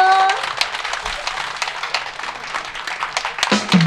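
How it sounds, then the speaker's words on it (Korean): Applause from a crowd at an outdoor public broadcast concert at a temple, moderately loud with some sharper individual claps, fading a little toward the end as a voice comes in. "박수 주세요."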